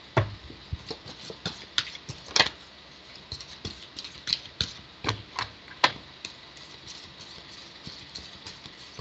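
Crisp riffling and tapping of playing cards being shuffled, in quick irregular bursts, close by with no talking.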